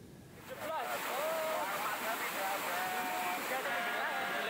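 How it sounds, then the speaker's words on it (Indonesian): A cold lahar mudflow from Mount Merapi carries sand and rocks down the Gendol River in Cangkringan, Sleman, Yogyakarta. It makes a steady, broad rushing roar that runs without a break under faint tonal sounds. "Derasnya aliran lahar dingin dengan membawa material pasir dan bebatuan"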